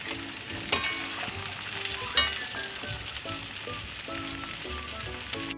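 Chicken pieces deep-frying in coconut oil crackle and sizzle steadily up close, with occasional scrapes and clinks from stirring.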